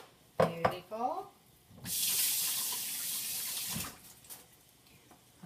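A brief spoken bit, then water runs from a tap for about two seconds with a steady broadband rush before shutting off, followed by quiet handling sounds.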